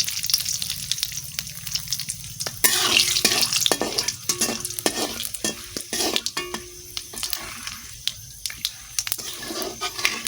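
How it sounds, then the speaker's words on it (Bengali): Bay leaf, whole cumin and whole garam masala sizzle and crackle steadily in hot oil for biryani, with scattered stirring clinks against the pan throughout. "তেল দিয়ে দিচ্ছি তেজপাতা আর গোটা জিরে আর গোটা গরম মশলা"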